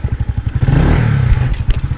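A Kanuni motorcycle engine runs loud and close after a hard start, chugging in a rough, rapid clattering rhythm with mechanical rattle throughout.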